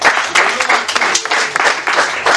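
An audience bursts into loud, dense applause at an event, many hands clapping together in a close, sustained wash with small swells and dips throughout.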